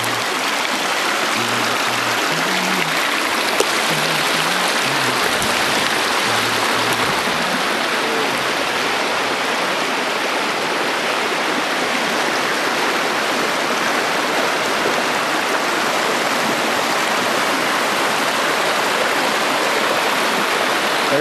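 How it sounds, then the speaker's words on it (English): Steady rushing of a creek flowing over rocks, a constant close wash of water that never lets up, with a faint low hum early on. "So the tributary flows in to my creek right here."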